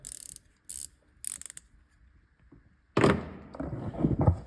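A hand ratchet works on turbo heat shield screws on a 2020 Mercedes-AMG A45 S, giving a few short clicking bursts at close range. Louder metallic clunks and scraping follow from the tool against the engine bay.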